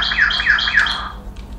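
A bird near a river in the jungle gives three quick, shrill squawking calls in an even rhythm, fairly close, over a low background rumble, then falls quiet.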